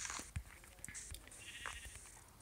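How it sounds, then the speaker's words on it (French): Sheep bleating in a Minecraft-like video game: a couple of short bleats over scattered game clicks and ambient sounds, moderately close, with no talk. "Il y avait encore 2 moutons."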